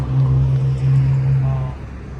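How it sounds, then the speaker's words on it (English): Steady road traffic rumble on a Toronto street, loud and close, with a low droning engine hum that fades slightly toward the end; no clear speech over it. "I have a hard time hearing with the traffic."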